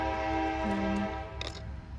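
A train passing outside sounds its horn in a steady, distant blare, then fades under a low rumble, with a faint tick of handling in the foreground during wire work.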